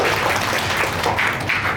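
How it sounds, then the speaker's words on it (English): Applause from a meetup audience at a Cloud Native community event in Kuala Lumpur, a steady dense wash of clapping filling the short moment, moderately loud and close. "Alright, round of applause."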